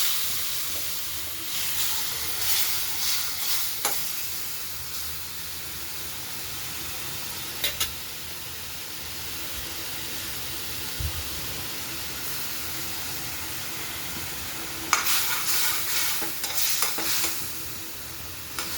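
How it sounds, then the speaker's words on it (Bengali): Spice masala fries and is stirred in a pan for a tengra jhal fish curry, a steady sizzle with occasional scraping strokes near the start, middle and end. "মশলাটাকে একটু ভাজা হবে, অল্প ভাজা হয়ে গেলে"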